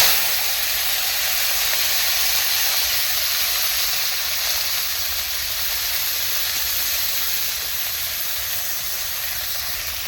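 Onions sizzle steadily in hot oil in a pan while a fish dish is cooked, a continuous loud hiss that holds even for the whole stretch without voices.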